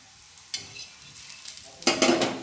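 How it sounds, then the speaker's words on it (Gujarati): Ragda patties crisp on a tawa griddle in a little oil, a soft intermittent sizzle with light scraping taps that swells into a louder, closer crackle of frying toward the end. "જો કેટલી મસ્ત શેકાય છે તવી ઉપર બી, ક્રન્ચી, ઓછા તેલમાં"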